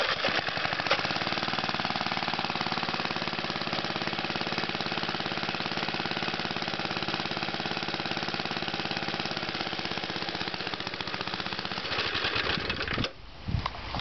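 A small engine runs on straight fuel ethanol from a still, a steady loud idling chatter with rapid mechanical ticking held for most of the time before briefly faltering near the end.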